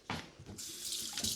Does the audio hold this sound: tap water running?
yes